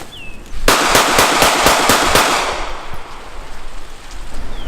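A rapid string of about seven handgun shots fired at a target on a range, loud and evenly spaced in quick succession, then fading into outdoor background noise.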